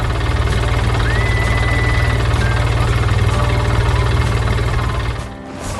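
Green farm tractor with yellow tires idling near hay bales and a wooden barn in an animated farm scene: a steady, throbbing mid-pitched engine chug held constant, then briefly dipping near the end.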